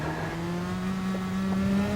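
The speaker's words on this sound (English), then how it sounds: "as you can hear from the revs, there's no real revs built up through that section" A racing car in a time-trial video game rolls through a wet section, its engine holding a fairly steady, moderate drone with little build-up in revs, loud and close.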